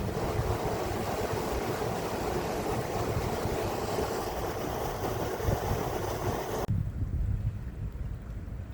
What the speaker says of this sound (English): And here is a nice river.